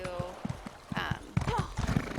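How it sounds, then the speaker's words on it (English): Horse hooves clip-clop in a steady rhythm with a whinny partway through, from the video game The Elder Scrolls Online, played fairly close with a person talking over parts of it. "Apparently I can't drive my horse."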